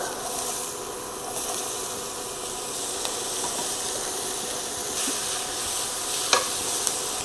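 Finely diced half of a large yellow onion frying in a pan used for searing chicken, a broad steady sizzle with faint crackles and a few light stirring clicks, close and continuous without talk.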